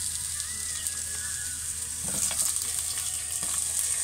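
Onion frying in a pan for a chicken cream stew gives a steady, close sizzle that runs unbroken throughout, with faint stirring scrapes partway through.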